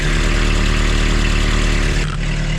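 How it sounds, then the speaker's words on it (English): A scrap car engine idles with a holed exhaust, a loud, rough, blatting rumble, steady and close with a slight dip near the end. "Nice big hole in the exhaust."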